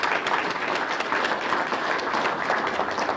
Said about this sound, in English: Please welcome him with your applause